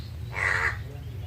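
A single harsh crow caw rings out, fairly close, over a low background hum.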